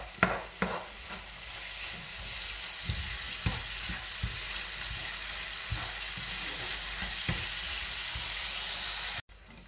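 A Turkish gozleme crêpe cooks in a hot pan with a continuous close sizzle, punctuated by occasional soft taps and scrapes, until it cuts off abruptly near the end; no voices are heard.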